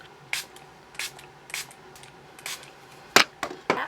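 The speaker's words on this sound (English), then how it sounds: "I am going in with the Make It Last setting spray once again" Several short hissing bursts of makeup setting spray, close up and fairly evenly spaced, with a quiet background between each spritz.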